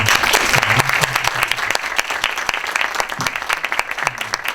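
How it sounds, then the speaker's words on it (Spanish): Audience applause closing a panel discussion on gender and multiculturalism, a steady dense clapping from a crowd filling the room throughout, with a few voices faintly underneath. "un aplauso para nuestra..."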